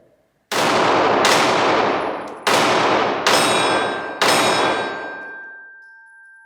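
Five loud, sharp shots from a Glock 19 Gen 5 pistol ring out at a target in an uneven rhythm, each with a ringing decay that fades after the last round.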